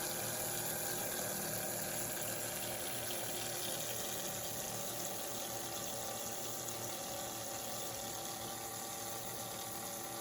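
A small pump circulates cold water through copper tubing in a homemade atmospheric water generator, giving a faint, steady hum with a continuous trickling water flow and no pauses.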